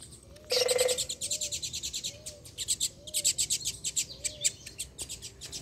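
Small songbirds chirping in quick bursts of high tweets, a dense trill at the start followed by repeated short chirp runs, fairly close with faint background noise.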